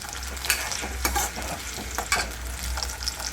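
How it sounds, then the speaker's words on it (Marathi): Onions fry and sizzle in a pan for a spicy Sangli-style bhogi vegetable dish, a steady close hiss broken by repeated scraping stirs of a spoon, with no talking. "आपला कांदा भाजायला टाकला आपण आपला कांदा भाजत आहे"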